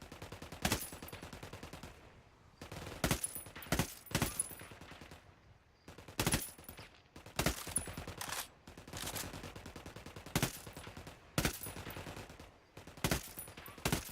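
Gunfire in the video game Ghost Recon Wildlands: repeated loud bursts of automatic shots separated by short pauses, punchy and close, with no talk over them.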